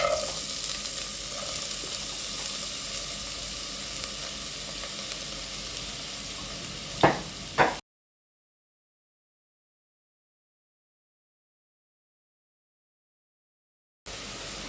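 Chopped onions hiss and sizzle in a few spoonfuls of oil for a short stretch, with a couple of sharp stirring clacks, then silence before the frying briefly resumes.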